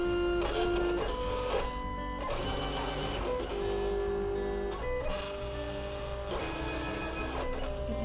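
A Silhouette vinyl cutter whirs and shuttles as it scans registration marks on sublimation flex, motor tones rising and stopping in short mechanical bursts, close and steady with no voices.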